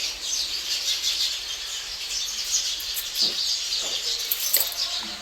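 Birds chirping as they settle into their nests ahead of coming rain, a busy chorus of light high tweets and small calls, with occasional soft wing flutters, continuous and moderately close.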